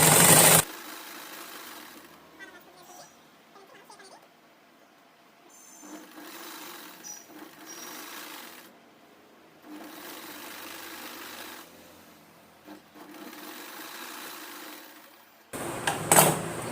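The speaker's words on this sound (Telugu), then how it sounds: "ఇటువైపున నేను లోపల వైపు ఒక స్టిచ్ వేసుకొస్తున్నానండి కొంచెం క్రాస్గా." A sewing machine stitches a long frock in several bursts of fast, even whirring and clatter, stopping and starting between seams, close and fairly loud with no talking.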